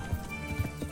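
Horse hooves in the video game Kingdom Come: Deliverance, three soft evenly spaced thuds in a steady gait under a low background hum.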